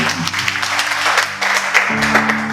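A church congregation clapping in rhythm during worship, brisk repeated claps layered with a sustained musical tone, loud and close throughout.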